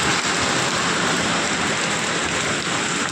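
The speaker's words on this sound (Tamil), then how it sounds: "சொன்னது போலவே மழை பேஞ்சிக்கிட்டு இருக்கு" Steady light rain falls continuously at close range, a dense even hiss with no talking over it.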